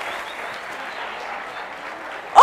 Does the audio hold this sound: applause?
yes